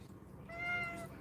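A sleepy pet cat gives a soft, drawn-out meow, close and fairly quiet over a low background hum, with no talking.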